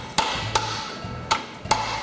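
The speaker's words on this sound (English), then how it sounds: "you can get up underneath there with a punch and a hammer" Four sharp metallic hammer strikes on a punch, spaced irregularly about half a second apart, ring out close up while bending the belt guides under an MTD variable speed riding mower.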